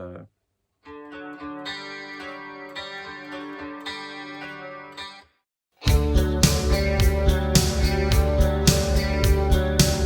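Heavily compressed, ducked guitar chords play in two passages: a moderate sustained strummed section, a short gap, then a louder, dense, pumping part with rhythmic pulses, no talking.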